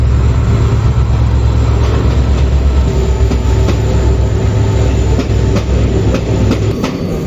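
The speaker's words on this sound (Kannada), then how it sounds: "Mysuru Talaguppa express train approach ಆಗಾಕತ್ತೈತಿ" Loud, continuous rumble of the Mysuru–Talaguppa Express rolling close by as it approaches a station, with rhythmic clattering of wheels over rail joints and a faint metallic squeal.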